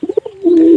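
A pigeon gives a short, loud, close coo: a few quick throaty pulses, then one sustained rolling note.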